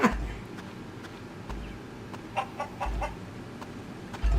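A video game chicken clucks in short bursts, with a few brief, close squawks over low background noise. No one speaks.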